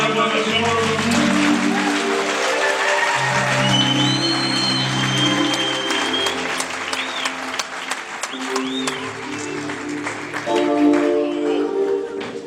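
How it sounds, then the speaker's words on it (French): A church congregation applauds and cheers after prayer, sustained clapping with voices and shouts mixed in across the whole stretch, loud and full, with music tones underneath. "Est-ce qu'on peut dégager les acclamations?"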